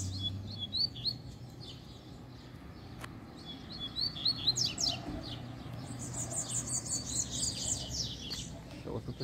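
Two collared seedeaters sing outdoors in bright, rapid chirping phrases, some nearer and some farther off, over a low steady background hum.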